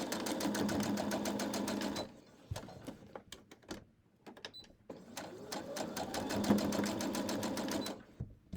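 A sewing machine stitches a quarter-inch seam in two bursts of rapid, even needle rhythm, separated by a pause filled with small handling clicks and taps.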